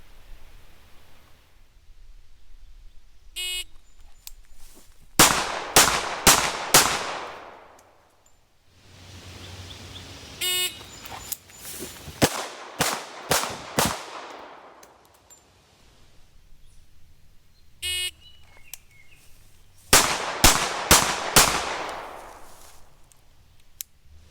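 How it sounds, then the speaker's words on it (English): Rapid strings of gunshots from an R1 Enhanced Commander handgun on a law-enforcement shooting course, fired in three loud bursts of several close shots each, separated by quieter gaps with faint movement and rustle. "first you'll see me shoot the stage moving both directions"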